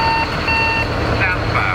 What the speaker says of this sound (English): you can hear the external alarms